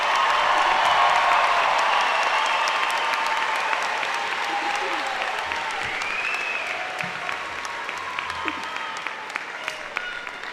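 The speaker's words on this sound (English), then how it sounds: "I'd like to invite everyone in attendance tonight to give these incredible graduates a round of applause." An audience applauds graduates at the Lake Weir High School 2022 graduation ceremony. Dense clapping from a large crowd starts strong, then thins and tapers gradually, with scattered louder claps near the end.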